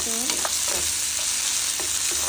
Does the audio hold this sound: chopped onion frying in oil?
yes